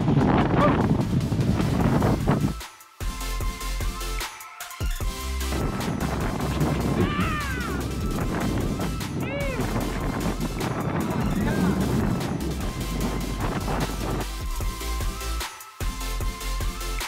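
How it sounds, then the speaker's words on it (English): Heavy offshore wind gusting over 30 buffets the microphone in a continuous roar at a beach while downwind foiling, with water splashing and brief dropouts, and a voice talking intermittently underneath. "The wind is nuking right now. It's gusting like way over 30."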